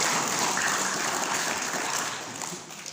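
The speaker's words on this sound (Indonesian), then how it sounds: "Beri tepuk tangan sekali lagi untuk Coach Fuad Sirojudullah ya." An indoor audience at a seminar session claps in a dense, loud burst of applause that holds steady and then begins to fade.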